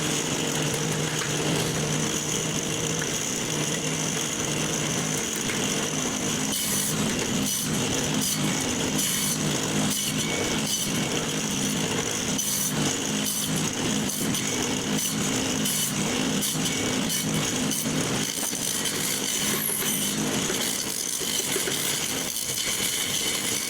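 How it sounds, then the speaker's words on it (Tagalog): Rapid repeated hammering taps and knocks during DIY work over a constant loud buzzing noise, continuous for a long stretch. "So, panoodin nyo mga pukpok."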